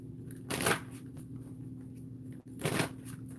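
Two quick bursts of oracle cards being shuffled, close and crisp, separated by a short pause with quiet background.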